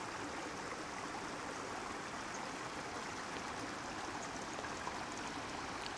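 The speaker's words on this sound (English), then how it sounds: "Lots of creek flow, more than I was expecting." A mountain creek in an alpine meadow of the High Sierra's John Muir Wilderness runs full with strong flow, a steady, dense rush of water close by, constant throughout with no voices.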